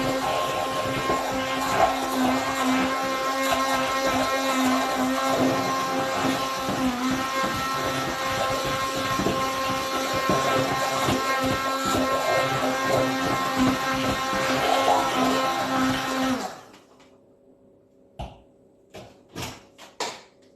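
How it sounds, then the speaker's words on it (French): An immersion blender whirs steadily through a coconut-pineapple batter with butter, a loud continuous motor buzz that cuts off and leaves a few light clicks and knocks. "j'ai un mixeur plongeant. Je vais mixer mon mélange avec le beurre."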